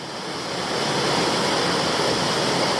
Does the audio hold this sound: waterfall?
yes